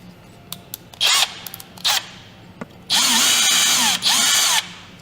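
Power screwdriver unscrewing screws from a GPU during a watercooled workstation build, in several short whirring bursts and then two longer runs, close and loud.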